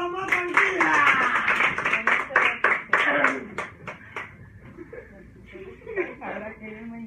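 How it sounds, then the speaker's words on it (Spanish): A dance school group claps in a burst of applause for one of its girls, a quick run of sharp claps that fades out while people talk and chuckle around it. "¡Aplausos a la más tranquila!"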